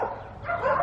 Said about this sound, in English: He's probably barking at Mackenzie now.